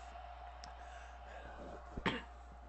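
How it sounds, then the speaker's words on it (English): A single sharp cough from a man suffering allergies, close and fairly loud near the end, after a quiet stretch with only a low steady hum in the background. "I know you guys wanted to tune in just to hear me cough"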